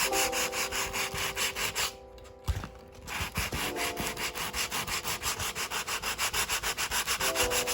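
Wood filler on a repaired veneer floorboard is rubbed with 180-grit sandpaper in light, even up-and-down strokes, a rhythmic rasping that pauses briefly near the middle before resuming; close and clear, without speech.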